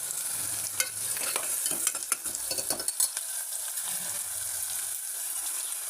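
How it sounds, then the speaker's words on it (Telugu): Onions sizzle in hot oil in a pan, with steady frying hiss and several brief stirring scrapes and clatters, quieting toward the end; no talking. "ఆయిల్ కాగిపోయింది. ఉల్లిపాయలు కొద్దిగా వేగుతుంది కదా"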